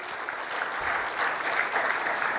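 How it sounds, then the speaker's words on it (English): Dense, steady applause from an audience at a conference on sustainable procurement, greeting a speaker with continuous clapping throughout. "Let's have a huge round of applause for Mr."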